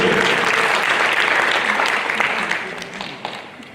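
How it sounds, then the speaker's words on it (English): Audience applause at a municipal meeting, a dense steady wash of clapping from a crowd that holds strong, then thins and tapers toward the end. "So one more round of applause for Mokgotong, please."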